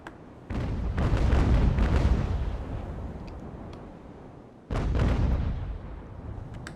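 Heavy naval cannon broadsides from wooden sailing warships in a game battle: a loud booming volley rumbles for about two seconds, fades, then a second deep blast erupts and trails off.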